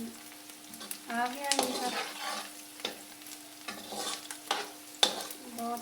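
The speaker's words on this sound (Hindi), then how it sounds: "प्याज भूनना शुरू हो चुके हैं।" Onions sizzle as they brown in a pan for karela gosht, bitter gourd with meat. A utensil stirs and scrapes in clattering bursts over the sizzle, and a voice speaks briefly.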